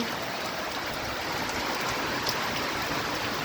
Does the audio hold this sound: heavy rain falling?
yes